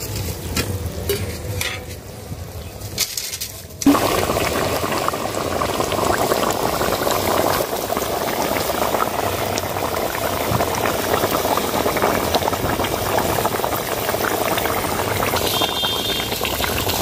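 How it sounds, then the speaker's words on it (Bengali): Fish curry broth for a spicy rui fish dish bubbles at a rolling boil in a pot, a dense, steady simmering wash that grows fuller after a short quieter start. "ঝোল ফুটে গেছে, এবার মাছগুলো দিয়ে দেবো।"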